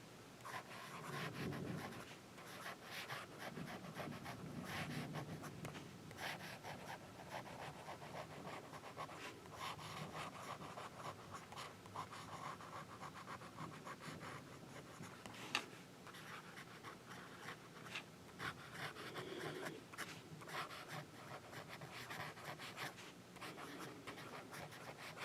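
A Lamy fountain pen with a broad nib scratches across paper, a continuous soft scraping with small strokes and pauses, close and faint, with no talk.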